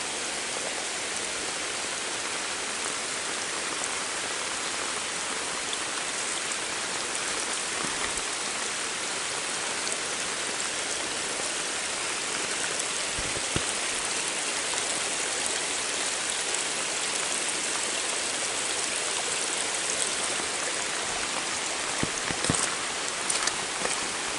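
Steady, dense rainfall hisses evenly, with a constant wash of noise and occasional faint knocks.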